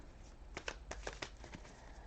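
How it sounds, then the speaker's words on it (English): A tarot card deck being shuffled close up, a quick run of soft papery riffles and flicks over about a second and a half, fairly quiet with no voices. "So let's shuffle just a little bit more."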